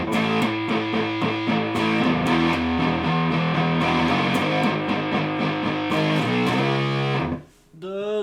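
Electric guitar played through a Marshall amp's distortion, a dense, saturated sequence of chugging and sustained notes, loud and continuous, cutting off abruptly near the end before a brief restart.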